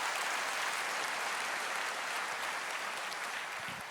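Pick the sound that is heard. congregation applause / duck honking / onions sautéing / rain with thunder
congregation applause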